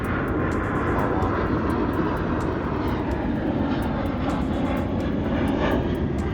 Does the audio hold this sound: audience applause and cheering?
no